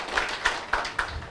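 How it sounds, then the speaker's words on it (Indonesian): Audience applause at the inauguration of a new building at IAIN Surakarta, attended by the Minister of Religious Affairs and the regent: a short burst of scattered, moderately close hand claps, with a few distinct louder claps standing out. "Kita beri tepuk tangan untuk semuanya."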